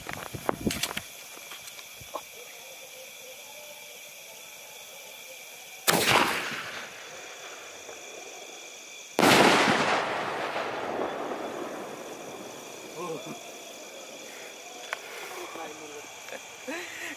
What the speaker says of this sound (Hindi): अब इस स्काई शॉट को रखते हैं साइड में और इसमें भी लगाते हैं आग